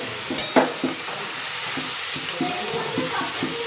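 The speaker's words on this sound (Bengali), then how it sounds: "এদিকে পেঁয়াজ ভাজা শুরু হয়েছে" Onions fry in a pan for a home birthday meal, giving a steady, close sizzle with a few stirring knocks and scrapes over a short stretch.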